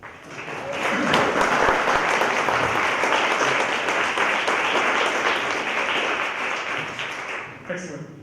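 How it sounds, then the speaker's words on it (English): Audience members at a community water event on the Yampa River basin applaud for several seconds, a full, even roar of clapping that swells quickly and tapers off near the end. "maybe we can get a little round of applause of"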